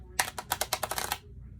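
Thin Lescott tarot cards are shuffled in a rapid burst of crisp riffling clicks lasting about a second, close to the listener and alone.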